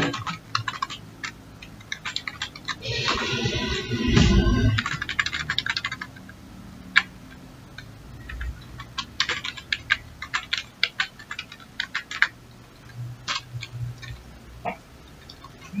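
Fingers type rapidly on a computer keyboard, clattering with quick irregular key taps and occasional pauses, with a brief louder rumbling scrape of handling partway through.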